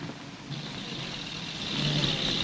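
A mail car on a remote crofting road rumbles past with a steady engine drone that swells gradually louder as it approaches, heard close and alone with no talk.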